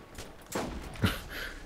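Video game gunfire in Borderlands: a couple of sharp bursts over a short stretch, moderately loud against a background hum.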